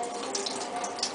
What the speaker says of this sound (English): dump out the old water